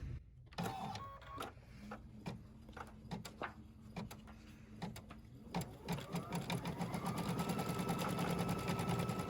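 A sewing machine starts up after a series of clicks and thumps, then stitches in a steady, rising whir that grows louder and continues to the end, close by.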